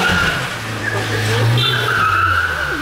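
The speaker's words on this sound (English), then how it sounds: "No surprise that the new car is burnout proof." Tires skidding and squealing through a 2018 Honda Civic Type R burnout, a loud steady screech sustained over a low engine drone.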